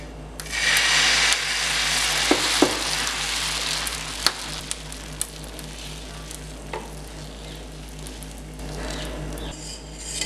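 Dosa batter sizzles steadily on a hot tawa for a spicy kara dosa, a continuous close frying hiss with occasional soft clicks and scrapes of the ladle.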